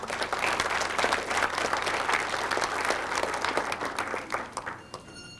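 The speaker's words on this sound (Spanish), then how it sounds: "Nuevamente un fuerte aplauso." An audience at a science lecture event applauds with a strong, dense clatter of many hands, holding steady before thinning out into a few scattered final claps near the end.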